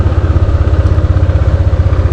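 A Yamaha NMAX scooter engine idles at a traffic light with a close, steady, pulsing mechanical putter and a low rhythmic thrum.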